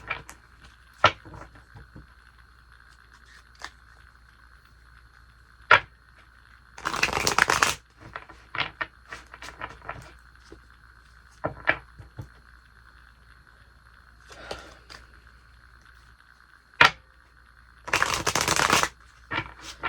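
Cards are shuffled for a card reading: two dense riffling bursts several seconds apart, with scattered soft taps and card handling in between, close up in a quiet room.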